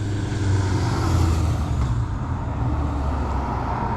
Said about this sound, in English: he's just bringing in a lorry full of gas